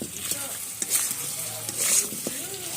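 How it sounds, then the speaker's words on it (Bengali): Braised meat being stirred in a pan, the spoon scraping and turning the pieces through a soft sizzle in a few near strokes, with no talking. "তো এগুলোকে ভালো করে এর সাথে মিশিয়ে নেবো"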